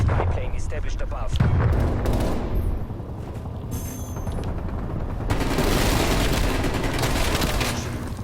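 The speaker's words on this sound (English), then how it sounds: "Hostile artillery targeting active. Artillery inbound." Artillery fire in the video game Call of Duty Black Ops Cold War: heavy booms and rolling explosions, loud and dense, with a brief lull before another barrage of blasts, while a voice speaks over the din.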